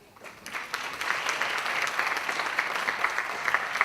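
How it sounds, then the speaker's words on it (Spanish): At an innovation talk event, an audience gives warm applause to welcome a speaker: dense, steady clapping that swells in at the start and continues evenly, moderately close, with no one talking. "Así es que lo recibimos con un cariñoso aplauso."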